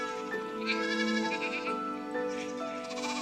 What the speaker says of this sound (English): Flocks of sheep graze on the pastures.